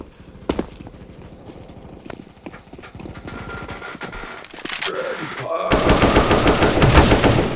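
Gunfire in the video game CS:GO: rapid, evenly spaced game gunshots rattle in bursts, with a louder, denser stretch of shooting near the end, under bits of a player's voice.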